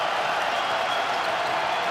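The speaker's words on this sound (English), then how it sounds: "Trying to get this crowd involved." Crowd in a basketball arena at a TBT game between Forever Coogs and the AfterShocks: a steady, broad wash of cheering and noise with no clear peaks, a commentator talking faintly beneath.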